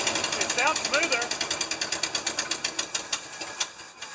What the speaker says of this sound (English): I think we're firing on that cylinder now. Sounds really smooth.